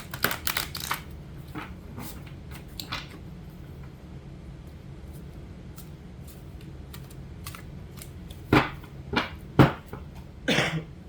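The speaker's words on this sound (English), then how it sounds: "Although these are large cards, they're very beautiful to shuffle." Crisp bursts of shuffling large tarot cards, several riffles and snaps clustered at the start and again near the end, with quieter handling in between.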